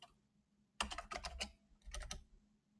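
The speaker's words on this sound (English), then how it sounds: "I'm sometimes typing random characters" Fingers clatter across a computer keyboard in two quick bursts of rapid keystrokes separated by a short pause, close and crisp against a quiet room.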